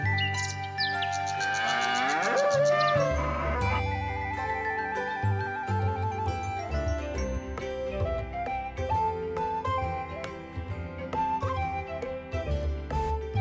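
A cartoon bull moos amid a busy, bright musical score with chirpy bird-like notes, the lowing clear and up front throughout, no speech.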